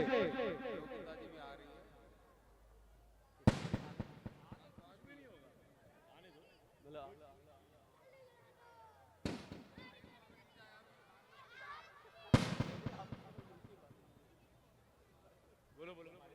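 At an outdoor Ravan Dahan celebration, fireworks go off in three loud booming bursts, each trailing into crackling, while a crowd and voices carry on in the background.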